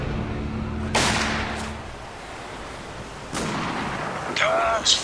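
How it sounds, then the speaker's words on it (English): Spec Ops: The Line game combat with RPG blasts and gunfire: two loud broadband bursts with ringing decay, about a second and three seconds apart, followed by a shorter crack, over a steady low battlefield rumble. "RPG by the dance floor!"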